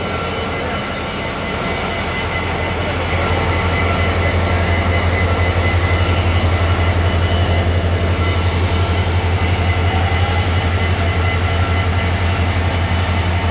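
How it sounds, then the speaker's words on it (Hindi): The Islamabad Iqbal Express rolls loudly into platform 7 at a Pakistan Railways station, a heavy continuous rumble of the locomotive and wheels that builds and then holds steady, with no talking. "इस्लामाबाद इकबाल एक्सप्रेस इस वक्त वो आ रही है प्लेटफॉर्म नंबर 7 पर।"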